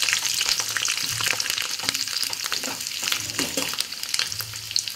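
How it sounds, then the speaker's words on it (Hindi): Capsicum hitting hot mustard oil in a kadai for kadai paneer, a loud crackling sizzle with spattering pops and stirring scrapes throughout, no voices. "कढ़ाई मेरा गरम है, अब इसमें डालेंगे सरसों तेल। इसमें हम डाल देंगे शिमला मिर्च"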